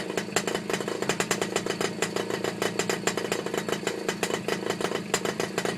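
A 1963 Peugeot BB1 moped's small two-stroke engine runs nearby at a steady idle, a rapid even putter of sharp pulses throughout, with no talking.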